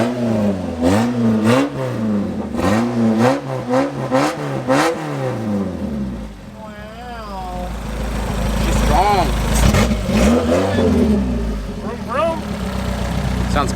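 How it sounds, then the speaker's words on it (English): A Toyota AE86, with a $350 engine of unknown history, is revved in a run of quick, rhythmic blips, then drops to a steady idle while people talk nearby. "Motor runs really well."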